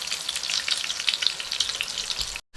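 Tofu and Spam fry in a pan with a steady, close crackling sizzle and soft stirring that runs almost without a break. It cuts off briefly near the end, and no one speaks.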